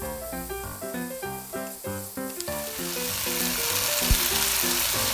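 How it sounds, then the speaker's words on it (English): Chopped kimchi with cooked meat and serrano peppers sizzles steadily in a hot pan as it is stir fried, the frying hiss growing over background music. "stir fry chopped kimchi with cooked meat"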